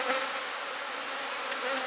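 Aggravated honey bees at an open hive during cell-builder and grafting work, a steady, dense buzzing that stays close and even throughout with no voices over it.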